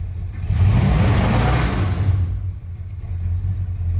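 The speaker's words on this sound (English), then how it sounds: "No load, it revs fine." A long-forgotten Dodge Monaco's engine revs hard with no load on its first start in years, a loud rising roar that settles into a steady throbbing idle with a deep low rumble.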